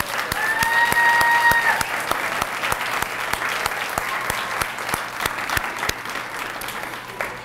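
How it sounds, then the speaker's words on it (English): An audience at a student award ceremony in Okaloosa County, Florida applauds the student honorees with sustained, dense clapping that holds steady for several seconds and slowly eases off toward the end. "Let's give all these students one more round of applause."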